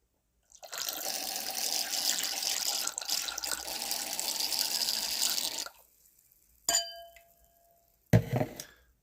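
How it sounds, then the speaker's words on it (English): Boxed wine is aerated, with several seconds of steady pouring and splashing liquid. Silence follows, then two sharp glassy clinks ring out. "I'm going to aerate it and see if all of a sudden things really start to develop"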